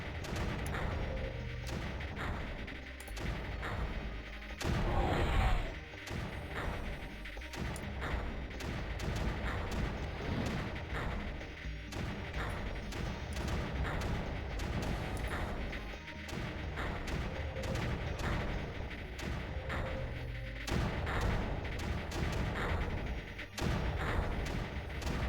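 Mortar and artillery fire in the strategy video game Creeper World, a steady barrage of booming blasts and crashes that carries on throughout, with one louder impact around the midpoint.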